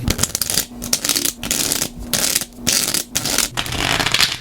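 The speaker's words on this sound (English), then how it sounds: "we're going to stick it back in the deck and we will shuffle" Repeated bursts of playing cards riffling and shuffling, several quick rustling runs separated by brief pauses, close and fairly loud.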